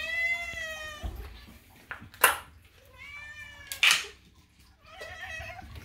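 A cat meows loudly several times, drawn-out, insistent cries close up, with sharp noises and quiet pauses between calls.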